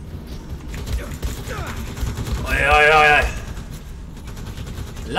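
Automatic gunfire in the first-person shooter Wolfenstein II: The New Colossus, a loud rattling burst of rapid shots near the middle over a busy game soundscape, with someone talking excitedly throughout.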